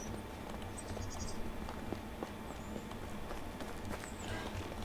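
Horse hooves clip-clopping in the medieval survival game Medieval Dynasty, a faint, quick patter of steps under a constant ambient background.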